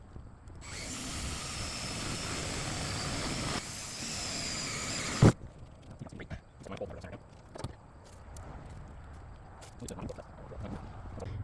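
A power drill bores holes into a truck body for an overland build, a loud steady whine for several seconds, followed by scattered clanks and handling noises.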